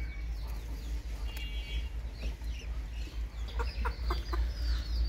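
A mother hen clucks softly among her chicks in a backyard poultry pen shared with ducks. Short, scattered clucks and peeps rise over a low, steady background rumble.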